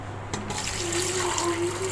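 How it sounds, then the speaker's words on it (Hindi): A glass of water poured into a pot for shami kabab cooking, a steady filling splash lasting about two seconds after a brief clink, close and moderately loud. "अब इसमें ऐड कर देंगे हम 1 गिलास पानी"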